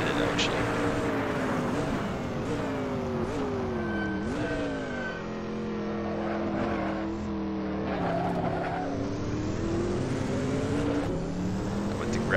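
A Mercedes Sauber C9 race car in the Assetto Corsa racing game accelerates hard through its five-speed gearbox. The engine climbs in pitch through repeated gear changes and stays loud and continuous throughout.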